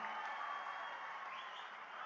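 Election rally crowd in Daman applauding two candidates, a steady wash of clapping heard from a distance, fairly faint, with a few scattered shouts.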